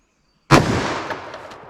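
.44 Magnum Buffalo Bore Dangerous Game mono-metal round fired in a penetration test, a single loud close shot after a moment of silence, followed by a long decaying rumble.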